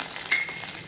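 Mustard seeds, fenugreek and urad dal frying in hot oil for a spicy lentil chutney, giving a steady soft sizzle with faint crackles, fairly quiet and close, with no talk.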